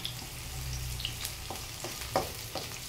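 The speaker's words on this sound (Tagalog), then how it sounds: "Gisahan natin ang sibuyas, bawang at luya." Onion, garlic and ginger sautéing for a coconut-milk vegetable dish, giving a steady close sizzle with a few brief stirring scrapes and no talk.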